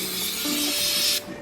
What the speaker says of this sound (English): what I normally like to do is just spray it here on the rag